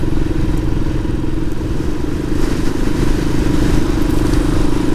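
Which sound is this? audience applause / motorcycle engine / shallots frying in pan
motorcycle engine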